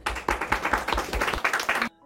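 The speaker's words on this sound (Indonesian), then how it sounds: "dia pun terkejut karena mendapat tepuk tangan dari murid di sana" A room of students claps for a new classmate, a brisk ragged burst of hand claps at close range that stops abruptly near the end, with voices mixed in.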